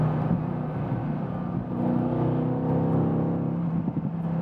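Mercedes-AMG GT S or GT R coasting off the throttle, a steady low engine drone and exhaust rumble with faint crackles near the end, close and continuous with no talk.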